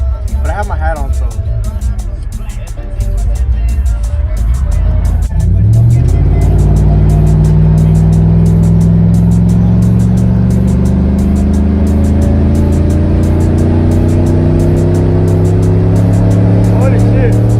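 A Chevrolet Cat Eye Silverado pickup fitted with racing seats accelerates hard in second gear from inside the cab. The loud engine climbs steadily in pitch after a brief quieter start, and people talk over it.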